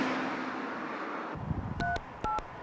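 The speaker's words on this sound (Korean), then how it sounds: "먼저 로드킬 신고 전화라고 안내되어 있는 120에 전화를 걸었습니다" A phone keypad dials the Korean roadkill report line 120. A low hiss cuts to quiet, then short beeping tones sound close and clear, one after another, with no voices.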